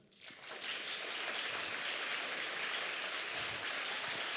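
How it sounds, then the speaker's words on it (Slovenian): Audience applause at a live drawing contest award event, a dense, steady wash of clapping from a crowd that rises quickly and holds evenly throughout. "Tako da najprej en aplavz za levo risbo od Mateja."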